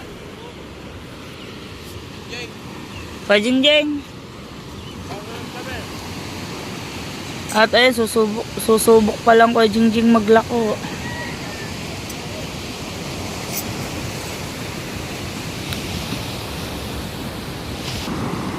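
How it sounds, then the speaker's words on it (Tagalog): Large waves break in a continuous roaring wash on a shore at Bucana in December, filling the whole stretch evenly while people talk intermittently over it. "Nalalaki ng alon."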